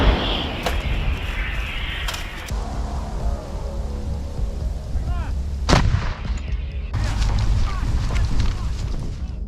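Heavy booms of British M777 155mm field howitzers firing in a combat setting, with several sharp reports and long rumbling echoes over continuous low background rumble, loud and fairly close.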